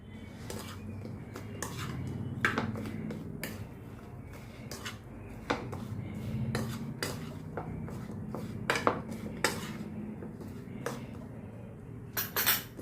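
Potato fries being tossed in a bowl with a rice flour coating for spicy masala fries give repeated close clinks and scrapes of a utensil against the dish, irregular and steady throughout, with no talking.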